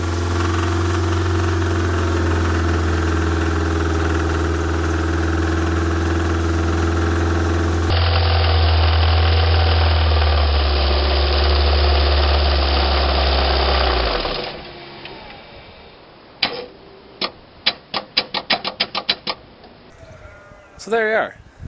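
A car engine running with no oil and no sump labours with a loud, rough drone, then cuts out abruptly as it seizes, leaving a series of sharp metallic knocks and clanks.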